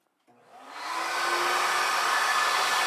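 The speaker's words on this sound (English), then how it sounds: "let's get the vacuum on" A workshop vacuum switches on and spins up over about a second into a loud, steady whining roar that holds without any voices.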